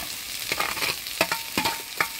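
Chopped jute leaves go into a pan with onion browned with radhuni and dried chilli, and they sizzle steadily as a spatula scrapes and stirs them in quick strokes.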